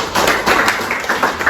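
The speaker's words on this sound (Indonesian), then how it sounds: "Tepuk tangan untuk saudara" Small group of students clapping in a university classroom, a short burst of close, uneven hand claps with no talk over it.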